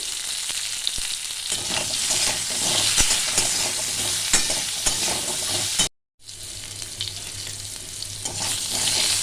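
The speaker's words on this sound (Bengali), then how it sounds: "আলুটা অল্প অল্প ভাজা হয়ে গেছে" Loud, steady frying hiss of potatoes in a pan with occasional stirring scrapes, briefly cutting to silence near the end before the sizzle resumes.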